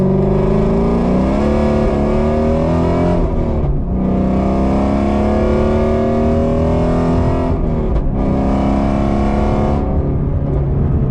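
A tuned Shelby GT350 engine roars loudly from inside the car, revving up through gears with brief dips between shifts, throaty and continuous.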